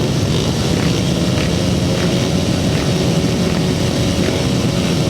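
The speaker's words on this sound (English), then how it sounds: "Revving up then for race number 31. Away they go, they all get away again this time" Grasstrack racing motorcycles at the start of a race at a 2007 Bewdley meeting, a dense, steady roar of several engines revving together, loud and continuous with no talk over it.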